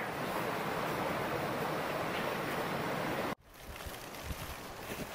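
Steady rushing roar of a big waterfall near a creek on the Teton Crest Trail, broadband and continuous, then cut off abruptly to a quieter, softer wash of water and wind.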